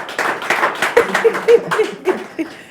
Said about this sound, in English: Oh, you were clapping.